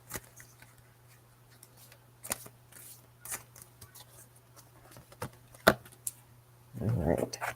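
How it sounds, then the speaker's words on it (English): Scattered crisp clicks and riffles of cards being shuffled, a few sharper snaps, ending in a louder burst of handling noise; steady low hum underneath. "Okay, shuffle one more time."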